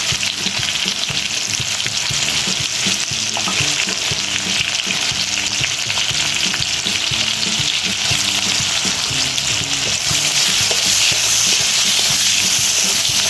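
Chopped onion and panch phoron frying in hot oil for prawn dal, a loud continuous crackling sizzle that holds steady throughout with no voices.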